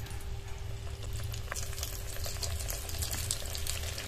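A potato being deep-fried in hot oil gives a steady, close bubbling sizzle that stays even from start to finish, with no talking over it.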